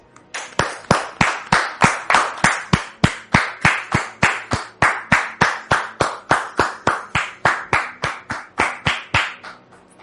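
An audience claps in a slow, steady unison rhythm to welcome a guest onto a stage, with each crisp clap standing apart and the beat holding evenly from start to end.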